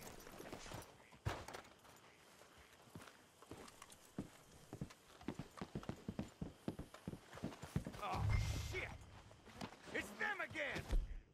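Horse hooves clip-clop steadily in Red Dead Redemption 2, a close, irregular run of hoofbeats continuing throughout, with voices talking over them.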